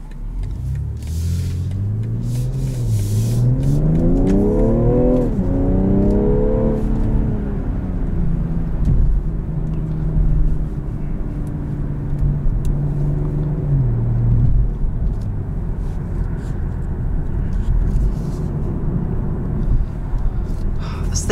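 A car driving on the road, its engine note rising and falling with acceleration over a steady road rumble, heard close from inside the cabin, with someone talking over it.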